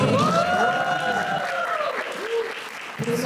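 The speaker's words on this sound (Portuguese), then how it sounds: "Aplausos." An audience at a church vocations gathering bursts into dense, loud applause that holds steady for a few seconds before thinning out, with voices rising briefly over the clapping.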